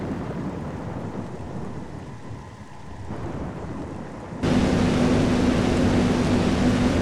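Rain pours and rumbles during the landing sequence in the video game Metroid Prime, a steady wash that swells abruptly into a louder, denser downpour partway through.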